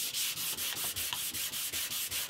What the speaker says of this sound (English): that'll probably just naturally go by hand sanding with a cork block